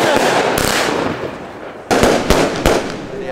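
New Year's fireworks exploding nearby in sharp, loud bangs and crackles, several bursts in quick succession over a continuous crackling rumble.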